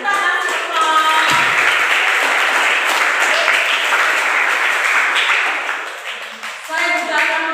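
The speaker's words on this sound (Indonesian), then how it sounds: "Kita kasih aplaus." An audience at a church children's holiday Bible school applauds loudly and steadily for several seconds, then fades, with voices talking over it.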